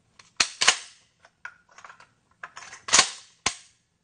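Dry-fire practice with a shotgun gives loud, close metallic clicks and clacks from the action being closed and the hammer falling, with a couple of sharp snaps and smaller handling rattles in between.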